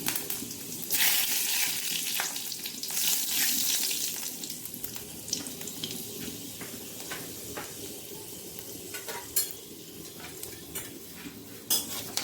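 Dry red chillies and panch phoron spluttering in hot oil in a pan while mixed vegetable curry is cooked, a steady hissing crackle with scattered sharper pops throughout, no talking.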